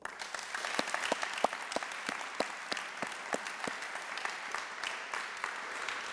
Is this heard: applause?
yes